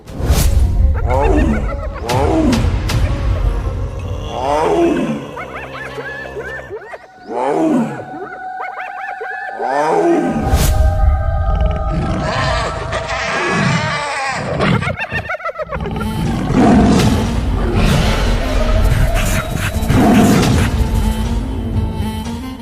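A cartoon tiger fighting a hyena in the Sundarbans, with repeated loud roars and snarls mixed with crashes, whooshes and thuds of the struggle, continuous and close throughout.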